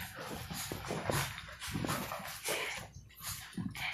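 A dog indoors in a home with several dogs whimpers and whines in a steady run of soft, close cries. There is a low household background behind it.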